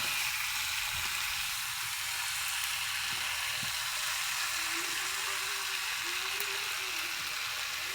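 Fried potatoes stirred into a pan cooking over a wood fire give a steady, faint sizzle with a few soft scrapes and clinks, and no voices.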